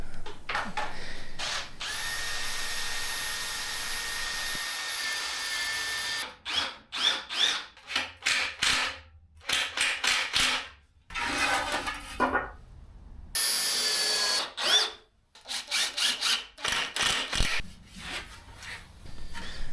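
A power drill whirs in repeated short bursts as screws drive into a wooden tool rack, with pauses and clatter between runs, close and loud.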